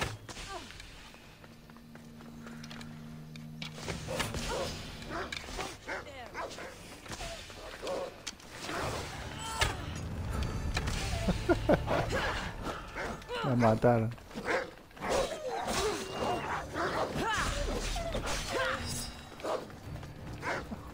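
Dog barking during combat in Assassin's Creed Odyssey, sharp barks scattered among thuds, clashing game effects and footsteps, with someone talking over much of it.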